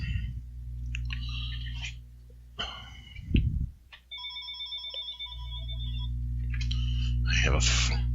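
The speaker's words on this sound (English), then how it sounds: "Have phone ringing in the background, and this is very annoying." A telephone rings in the background, a steady electronic trill that repeats for a couple of seconds before fading, with a faint voice and room noise around it.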